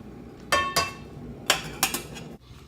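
A cooking pan being picked up and set down in a kitchen, giving several sharp metallic clinks and knocks in quick succession at close range, with no talking.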